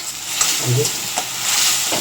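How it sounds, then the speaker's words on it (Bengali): Tomato and onion frying in a pan with stirring: a steady, close sizzle with a few soft scraping strokes, no talking. "টমেটো আর পেঁয়াজ ভাজা হচ্ছে"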